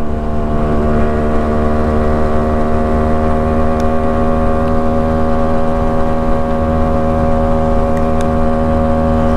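A Yamaha RX135 motorcycle engine drones steadily up close while jerking, a continuous loud hum with small uneven surges in its running.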